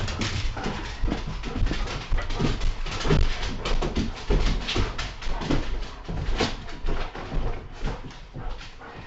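Indoor dogs whimpering and fussing close by, with scrabbling and pawing noises over a steady, dense background, continuing throughout without a break.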